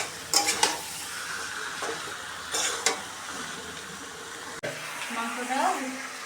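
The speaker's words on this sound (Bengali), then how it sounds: "ভালো করে মাংসটা কষিয়ে নিব।" Country chicken meat stirred and fried in a pot with greens, village cooking style: a spoon scrapes and clatters against the pot over a steady sizzle, with a voice heard partway through.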